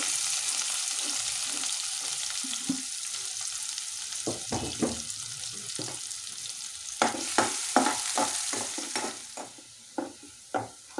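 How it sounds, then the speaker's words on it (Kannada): Chopped onions fry in hot oil with a continuous sizzle, while repeated close scrapes and knocks of a spatula stir the pan in irregular bursts, growing busier toward the end. "ಈಗ ಈರುಳ್ಳಿ ಫ್ರೈ ಆಗಿದೆ."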